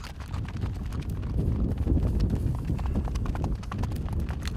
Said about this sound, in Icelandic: Hér koma fyrstu hestar